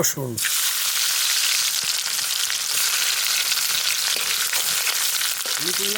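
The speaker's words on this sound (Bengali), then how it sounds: "ওই তেলেই আমি ফোড়ন দেবো আর একটু সর্ষের তেল দিয়ে দেবো ফোড়নে দেবো শুকনো লঙ্কা রাঁধুনি আর জিরে" Dried chili, radhuni and cumin tempering in hot mustard oil for a Bengali home-style dish, a loud continuous sizzle and crackle throughout, with a brief voice and a couple of soft clinks.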